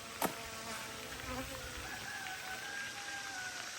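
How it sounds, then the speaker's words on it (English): A steady buzz of agitated honey bees drones through, with a faint higher whine drifting across, quiet and continuous after a brief sharp tap on the hive near the start. "these bees are not happy"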